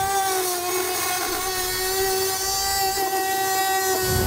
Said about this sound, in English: take my Dremel tool and I'll cut right along the line